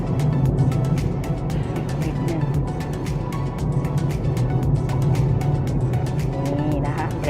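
A black 2015 Mitsubishi Attrage 1.2 GLX sedan driving on a straight road during a brake test, heard from inside as a steady road and engine hum with no clear braking event.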